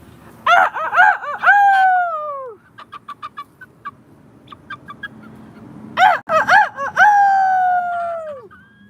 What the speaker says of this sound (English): let's see if I can get him to do his crow